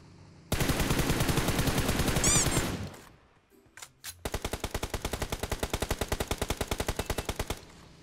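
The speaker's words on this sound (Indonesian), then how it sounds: "Kenapa nembak siapa itu?" Automatic weapon fire in a mobile battle royale shooter game, a long rapid burst, a short pause with a couple of isolated clicks, then another steady rattling burst, loud and close.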